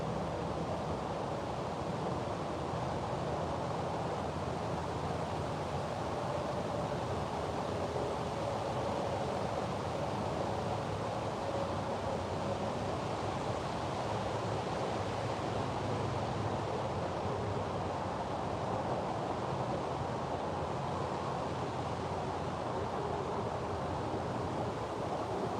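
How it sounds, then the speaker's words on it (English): Strong steady wind buffets the microphone outdoors on a catfishing outing, a loud continuous broadband roar with no letup for the whole stretch. "It's so windy out here, Chad. Y'all probably hear all wind in the freaking camera."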